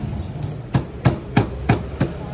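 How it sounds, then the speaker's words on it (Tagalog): Garlic pounded in a mortar for a Filipino almondigas dish, five or six sharp, evenly spaced thuds close by, with no talking. "So, dikdikin muna natin ang bawang."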